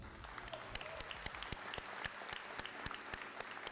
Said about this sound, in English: we're going to ask for another round of applause for our to-be-sworn-in candidates here